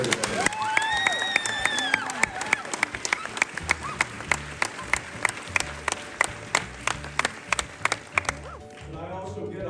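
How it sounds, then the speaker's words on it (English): A crowd applauds the class of 2023 at a high school graduation, with cheers and shouts rising over the start and then a sustained patter of clapping marked by loud nearby claps, tapering off at the end. "Can I get a quick round of applause for the class of 2023, everybody?"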